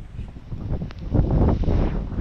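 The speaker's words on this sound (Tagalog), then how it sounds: "malakas na hangin, may kasama ng konti-konting ulan" Strong wind ahead of typhoon Pepito, with light rain starting, buffets the microphone in a steady, loud roar that swells and gusts.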